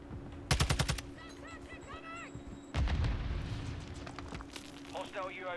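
Call of Duty Modern Warfare 2 gunfire: a loud rapid burst of automatic shots, then a second heavier volley, amid game sounds with a voice talking in the background.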